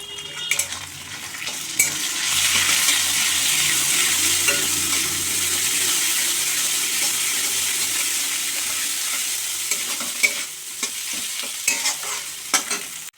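Ground spices frying in a pan with fried potatoes, chopped green chillies, Kashmiri chilli powder and ginger-cumin-coriander paste, a loud continuous sizzle with a spoon scraping and stirring against the pan, close up and without talk.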